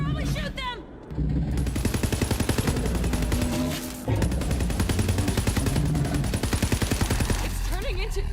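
Rapid automatic gunfire from the video game Borderlands 3 crackles in dense, continuous bursts, briefly breaking off before resuming, with game sound effects and a voice layered over the shooting.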